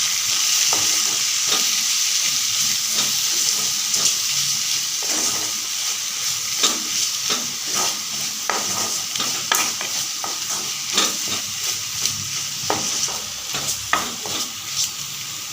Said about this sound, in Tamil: இது அடுப்பை மீடியம் ஃப்ளேமில் வச்சு 2 நிமிஷம் நல்லா வதக்கி விட்டுக்கோங்க.